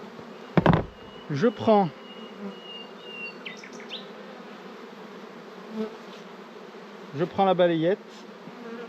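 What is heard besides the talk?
honeybees buzzing on a hive frame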